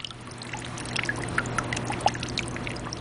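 Water trickles and pours steadily through a hole in a sand model dam, a continuous soft gurgling flow with small splashy bubbles, fairly quiet and close, with no voices.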